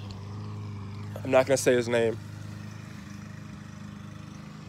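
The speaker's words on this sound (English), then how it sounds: "Excuse the noise in the background. That's just a lawnmower." A lawn mower drones steadily in the background as a low, constant engine hum, while a person talks briefly over it.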